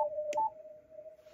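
A ham radio CW signal received on an FTDX10-style transceiver with the AMP2 preamp on and no notch filter: a steady, ringing Morse tone with a short higher blip, clean and alone.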